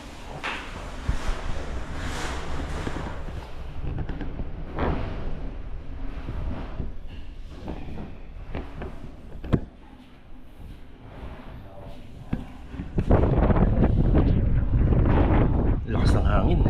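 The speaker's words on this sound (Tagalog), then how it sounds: "Lakas ng hangin." Strong wind buffeting the microphone outdoors in loud, uneven gusts and rumbles that swell and ease, with voices talking under it.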